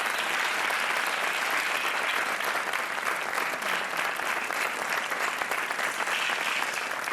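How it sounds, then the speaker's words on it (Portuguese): Studio audience applause on the Portuguese TV game show Joker, broad continuous clapping from many people, steady and fairly soft, lasting the full stretch without speech. "Já agora um aplauso para o Drenchill."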